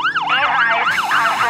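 Emergency vehicle siren as a sound effect: a loud, steady wailing tone sweeping up and down in regular cycles of about half a second, heard alone with no talk.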